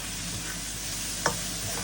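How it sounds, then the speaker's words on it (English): Fish pie ingredients being mixed together in a pan, a steady close sizzling and stirring texture with one brief sharp clink of a utensil partway through. "I'm just gonna mix them all in"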